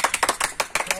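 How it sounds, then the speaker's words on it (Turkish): Hands clap in quick bursts at close range after a football match between amateur league teams, about a dozen sharp claps over one second with no talk. "Alkış!"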